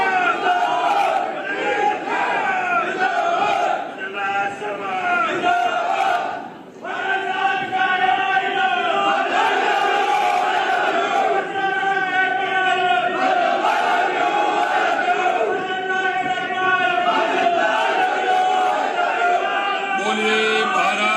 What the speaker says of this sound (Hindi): जोरदार तालियों के साथ आदरणीय भजन लाल जी का स्वागत।